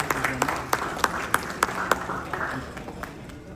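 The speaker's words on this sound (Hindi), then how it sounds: "कृपया जोरदार तालियों से स्वागत करिए सर का।" A hall audience at a Central Bank of India function applauds to welcome a general manager, with steady, fairly loud clapping and a few sharper individual claps standing out in an even patter.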